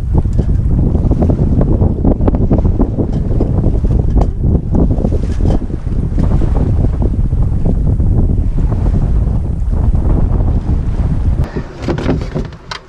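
A small sailboat sails on the open ocean after a bar crossing, with strong gusty wind buffeting the microphone and water rushing and splashing against the hull continuously throughout.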